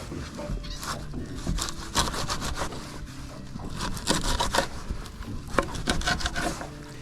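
A knife cuts gizzard shad into small bait chunks on a board, with repeated scraping, sawing strokes and sharp chopping taps at close range over several seconds.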